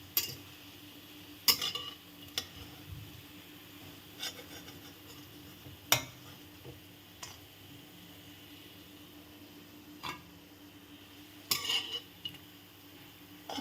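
Fried bitter gourd pakoras lifted one by one out of a pan of oil, with faint sparse clinks and scrapes of a utensil against the pan over a quiet background sizzle.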